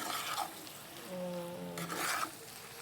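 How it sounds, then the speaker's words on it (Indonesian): Eggs stirred in a Teflon pan over heat, a soft scraping and gentle sizzle running steadily for a few seconds, close by, with a brief tonal hum in the middle and no voices. "Kita aduk supaya telurnya tercampur. Kita aduk sampai rata."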